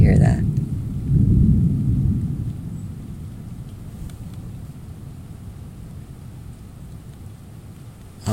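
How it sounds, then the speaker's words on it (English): Thunder rolls during a storm: a loud, deep rumble swells in the first couple of seconds and then fades into a long, low grumble, with a person talking over it. "oh, more fucking thunder"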